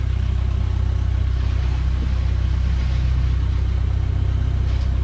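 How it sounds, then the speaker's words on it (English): A project car rolls into a shop under a steady, loud low engine rumble that holds evenly throughout, with no clear braking squeal or other distinct event standing out. "I'm now off the brake and I am gaining speed."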